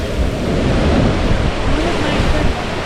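Ocean surf rolls in at a beach at Gulf State Park, a loud, continuous wash of breaking waves mixed with wind rumble and buffeting on the microphone, with no clear talk.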